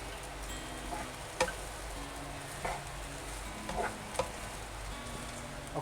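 Rice stirred and fried in a pan for Thai chicken rice, a faint steady sizzle under occasional scraping and tapping of the utensil against the pan.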